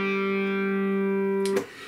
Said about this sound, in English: I've got a little bit of reverb on, distortion.